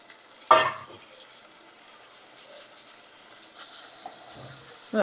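Pieces of mutton liver going into a pan of softened onion and tomato: a sharp clatter early on, a quiet stretch, then a soft, steady frying hiss that builds toward the end.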